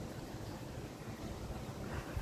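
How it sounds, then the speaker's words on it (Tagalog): Strong wind blows in hot, sunny weather after rain, a continuous loud rushing roar that buffets the microphone with steady broadband noise. "Malakas po hangin dito."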